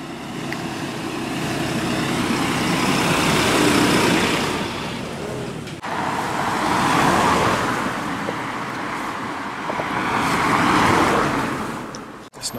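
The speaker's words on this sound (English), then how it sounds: "Big tractor coming." A big tractor passes along a road near Stockbridge. The engine grinds loudly as it approaches, fades, then swells again in waves that sound like more vehicles going by.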